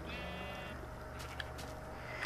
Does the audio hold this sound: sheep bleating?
yes